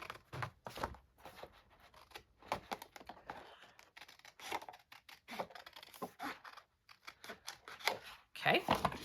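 Scissors cutting through paper or cardstock at a craft table, a run of short crisp snips and rustles close by, with some handling noise between cuts.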